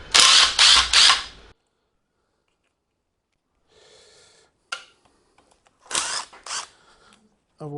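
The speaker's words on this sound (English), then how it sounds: "it does feel wrong using a electric impact on, well, electric rattle gun on a Morris Minor" An electric impact wrench works on a Morris Minor engine block, firing several loud, close rattling bursts with a short quiet gap between them and more brief bursts later.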